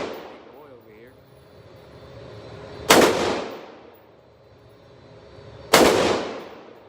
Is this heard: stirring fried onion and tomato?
no